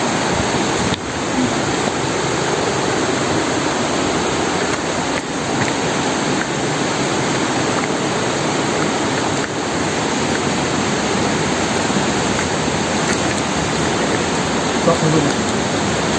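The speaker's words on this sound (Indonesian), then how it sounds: "kita sudah sampai di sumber mata air Kali Ngreneng ya" Spring water at Kali Ngreneng flows in a steady, dense rushing wash that carries on unbroken from start to finish. It sounds close and fairly loud, and no voices are heard over it.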